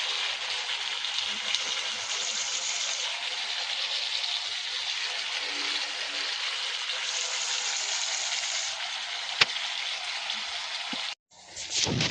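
Paneer sticks fry in a pan, giving a dense, steady sizzle like light rain that holds evenly for about eleven seconds before cutting off abruptly.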